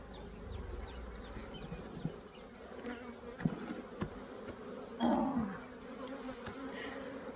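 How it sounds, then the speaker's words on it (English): Honey bees buzz steadily and close by at an open hive being split, a dense continuous hum with a few louder swells and clicks from handling. "I was hoping the bees would stay away from me"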